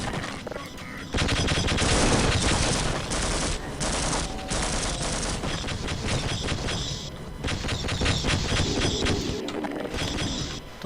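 Dense gunfire in the Half-Life video game, loud automatic bursts and single shots hammering almost without pause, with thuds and impacts mixed in.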